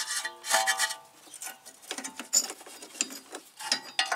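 A clamp is worked off a BMW 335i E93 strut during a coilover install, producing close, rapid metallic ratcheting and clicking in irregular bursts with brief pauses, no talk.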